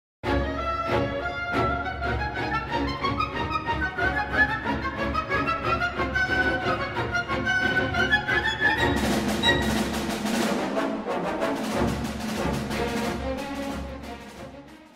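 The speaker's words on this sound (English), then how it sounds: "Adding even more tension in the music is the woodwind melody above the chords." Orchestral passage from Shostakovich's Symphony No. 10, with a wild, shrieking woodwind melody climbing above driving repeated string chords, dense and continuous, swelling with added brass and percussion weight toward the end.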